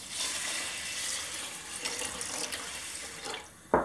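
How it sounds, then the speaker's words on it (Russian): Water runs steadily from a tap into a pot of rice, splashing for several seconds, ending with a brief louder gush. "И заливаю водой."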